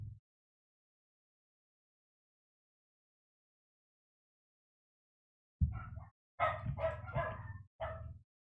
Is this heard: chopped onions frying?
no